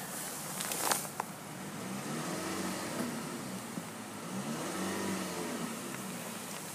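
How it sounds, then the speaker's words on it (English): A 2014 Chevrolet Malibu LTZ engine revs up and settles back down twice, a rising and falling mechanical drone heard from nearby. "I'm going to go ahead and rev this thing up so you can hear the engine"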